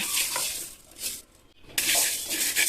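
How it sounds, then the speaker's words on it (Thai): Jasmine rice dry-roasting in a pan over low heat, a soft rustling scrape of grains being stirred, pausing briefly midway before resuming, close and fairly quiet. "เอาข้าวเนี่ยมาคั่วให้หอมในกระทะ ไฟอ ่อนๆนะคะ"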